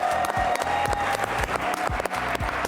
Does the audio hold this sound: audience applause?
yes